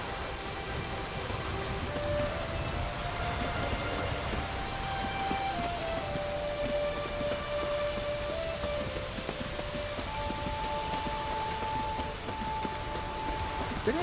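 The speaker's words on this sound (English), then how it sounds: "It's raining." Steady rain falls throughout the full stretch in The Witcher 3, a dense even hiss, with soft tonal music or ambience lines drifting over it and no speech.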